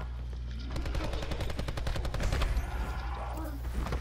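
Rapid bursts of automatic gunfire ring out in a video game, steady rattling volleys at moderate distance over a low background hum.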